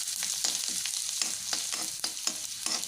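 Ginger and garlic sautéing in a pan for an onion pickle, a bright continuous sizzle broken by regular scraping stir strokes about every third of a second, close and loud.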